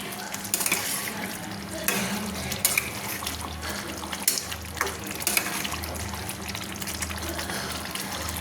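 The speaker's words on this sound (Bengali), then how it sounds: "দিয়ে আমি ভালো করে নেড়ে নিচ্ছি" A spoon stirs egg kosha, a thick egg curry scattered with chopped coriander leaves, in a pan: repeated scraping and clinks against the metal over a soft background sizzle, close and fairly quiet.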